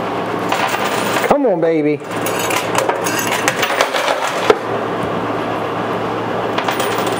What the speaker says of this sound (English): as soon as that quarter right there drops